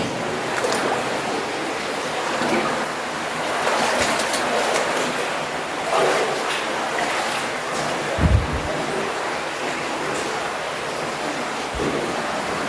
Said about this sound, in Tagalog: So may mga tubig din na malakas na kuha.